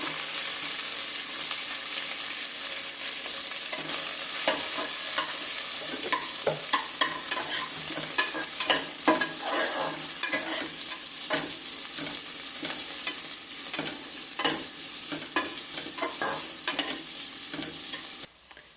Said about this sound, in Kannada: ಮತ್ತು ಪುದೀನ ಸೊಪ್ಪು, ಮೆಂತ್ಯ ಸೊಪ್ಪು, ಕೊತ್ತಂಬರಿ ಸೊಪ್ಪು, ಈರುಳ್ಳಿ ಹಾಕ್ತಾಯಿದ್ದೀನಿ.